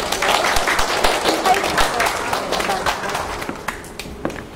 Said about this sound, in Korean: 우리 이하연 교수님 박수 주세요